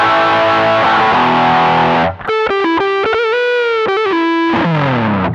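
An electric guitar runs through a ZOOM G1 X FOUR multi-effects unit on a Gold Drive overdrive patch with noise reduction and plate reverb: a sustained distorted chord, then a run of crunchy single notes and chords ringing out.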